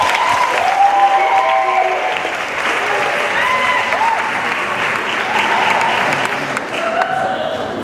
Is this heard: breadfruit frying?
no